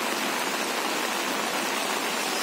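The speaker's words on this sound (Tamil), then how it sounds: "என்ன மழை, சம மழை." Heavy rain pours down steadily outdoors in a village during a storm, a dense, even hiss that stays loud throughout with no voices.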